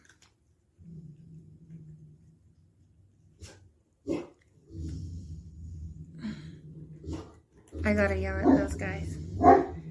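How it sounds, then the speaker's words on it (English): Dogs bark outside in short intermittent bursts, a few yips and barks scattered through, growing busier toward the end, while a person talks over them nearby. "there's no guarantee that these dogs will stay quiet for the whole time"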